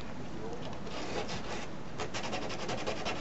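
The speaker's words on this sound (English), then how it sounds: "I'm just going to get a bit of 180 grit paper and just clean up that drill hole a little bit." 180 grit sandpaper is rubbed by hand around a drill hole in a surfboard, producing quiet, close scratchy rasping in short back-and-forth strokes.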